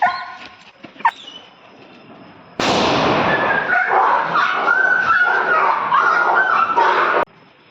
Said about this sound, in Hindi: भाई साहब, मतलब क्या आवाज़ थी बुलेट फ्लैश की, दिल खुश हो गया।